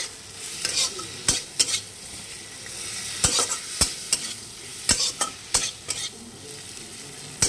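Spices fry in a pan for a pav bhaji–style masala, a steady sizzle broken by repeated sharp spatula scrapes and knocks against the pan, close and fairly loud, with no voices.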